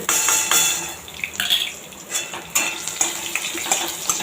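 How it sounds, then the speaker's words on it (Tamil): Cumin, kasuri methi and garlic sautéing in hot oil in a pan, with steady sizzling under repeated light clinks and scrapes of a spoon stirring against the metal. "போட்டு நல்லா வாசனை நல்லா வர வரைக்கும் நல்லா வதக்கணும்"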